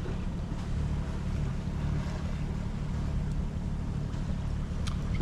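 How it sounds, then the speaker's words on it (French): Wind gusting around a sailboat at sea, a constant blustery roar with microphone buffeting, low rumbling flutter and faint water wash beneath, loud and steady with no voices. "C'est pénible le vent."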